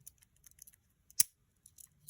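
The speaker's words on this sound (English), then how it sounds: "Okay, so we have our scissors on this side." A pocket knife's small scissors are pulled open, giving a single sharp metallic click alone in quiet, with a few faint light clicks and taps around it.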